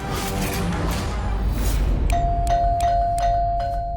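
A household doorbell rung several times in quick succession, bright ringing chimes sounding about five times over a dense, noisy background.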